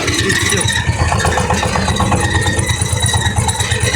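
A minitractor engine running steadily after being started, a loud close chugging idle with a rapid regular beat filling the whole stretch.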